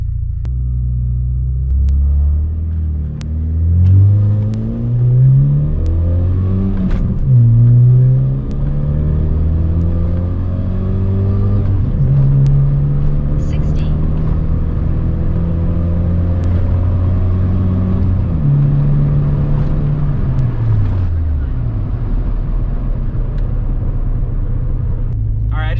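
A car on a quarter-mile run accelerates from the line, its loud, close engine note climbing steadily and dropping back at several gear changes over a continuous drone.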